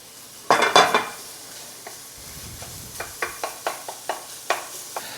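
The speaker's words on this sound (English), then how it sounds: "Then we're gonna go in with our sliced garlic." Sliced garlic cooks with browned ground turkey in a pan, a burst of stirring and scraping followed by a regular series of sharp spatula taps against the pan over a faint sizzle, close and with nobody talking.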